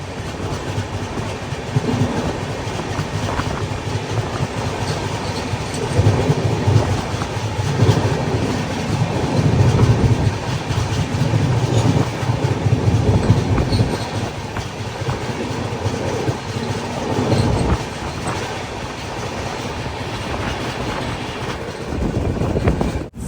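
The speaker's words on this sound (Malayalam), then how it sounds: "സേലം ജംഗ്ഷൻ റെയിൽവേ സ്റ്റേഷനിലേക്ക് ഇതാ നമ്മുടെ ട്രെയിൻ എത്തിക്കൊണ്ടിരിക്കുകയാണ്" The Humsafar Express rolls into Salem Junction with a steady, loud rumble and rhythmic clickety-clack of wheels over rail joints, continuing unbroken with no voices.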